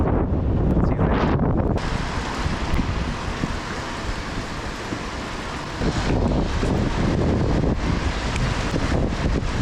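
Strong wind roars against the microphone beside a spring river during smallmouth bass fishing on the South Holston, a steady loud buffeting with gusts and no voices.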